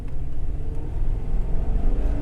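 A 2005 Lincoln cruiser's engine pulls at full throttle while accelerating at highway speed, a loud, deep, rumbling roar heard from inside the car, steady and continuous without any talking.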